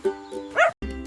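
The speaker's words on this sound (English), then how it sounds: "Our first friend is a dog. Dogs say, woof," Short, close dog barks and a yip in a children's farm-animal song, loud and clear with no voice over them.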